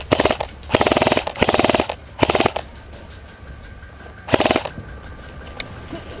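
Airsoft rifle fire from an opposing player: several rapid full-auto bursts, loud and fairly close, with a pause and then one more burst, over quiet outdoor background.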